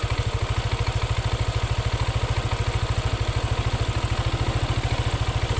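Yamaha N-MAX scooter idling with a broken CVT slider piece, giving a steady, fast engine pulse with a continuous rattling clatter from the CVT housing, close and unbroken throughout.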